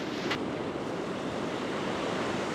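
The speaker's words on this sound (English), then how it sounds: "there's a nice bit of surf rolling in" Sea surf rolls onto Easington Beach on a UK cod fishing trip, a continuous broadband wash of breaking waves with some wind rumble, steady and fairly close with no voices.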